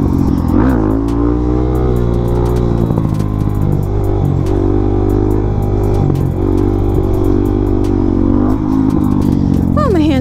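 A Suzuki DRZ400SM supermoto engine revs hard during a wheelie, loud and close, its pitch rising and falling in surges with wind rush and a voice talking over it.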